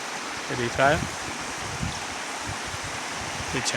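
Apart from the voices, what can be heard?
stream water flowing near Mahadev temple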